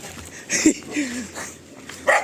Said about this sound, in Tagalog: May aso nga lang.